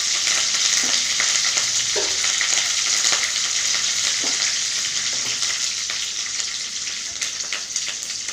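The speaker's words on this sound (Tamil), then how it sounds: "இப்போ தாளிசம் பண்ணணும்." Spices for sambar sizzle and crackle as they are tempered in hot oil, a steady close frying hiss with scattered pops, moderately loud and with no voices.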